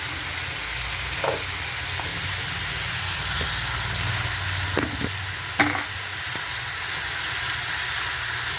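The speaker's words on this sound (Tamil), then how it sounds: "தக்காளி ஆட் பண்ணிட்டு தக்காளி நல்லா வதங்கட்டும்" Tomatoes sautéing in a pan for a tomato-peanut chutney give a steady, close sizzle with occasional stirring scrapes and clicks, no voices.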